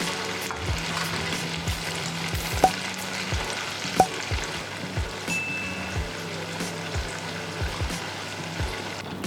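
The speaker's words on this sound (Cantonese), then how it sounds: "將排骨放入油炸至上色就可以盛起" Pork ribs dusted with cornstarch fry over medium heat in a pot of oil, giving a steady close crackling sizzle with scattered sharper pops and a low bubbling undertone.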